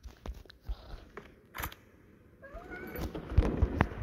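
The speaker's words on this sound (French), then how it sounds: "Ah, il a peur ce petit chat, le pauvre." A frightened kitten gives several short, thin meows, with soft rustling and handling noises between the calls.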